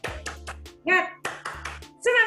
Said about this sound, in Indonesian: ayo kita tepuk semangat sama-sama